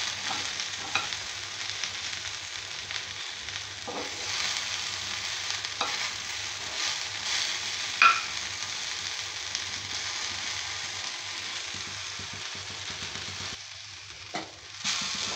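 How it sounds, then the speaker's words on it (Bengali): Mixed vegetable bhujia frying in a little oil, a continuous sizzle under repeated scraping strokes of a spatula stirring against the pan, with a couple of sharper knocks toward the end; close and steady, no talk. "তাহলে কি কম তেলে ভালো ভাজা হয়ে যায়।"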